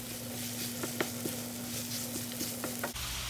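Leftover fish sautéing in a pan with onion, tomato and garlic, a steady sizzle with soft stirring scrapes and small pops, close and fairly quiet, under a low constant hum.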